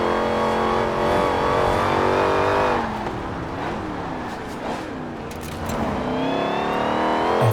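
A race car engine roars on a gravel course in the Forza Horizon 4 racing game. It drones loudly and continuously, with the pitch rising and falling through revving and gear changes, and no talking.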